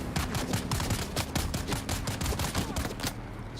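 Rapid automatic gunfire in Dune: Awakening, a dense, steady volley of sharp cracks running almost without pause, loud and close throughout.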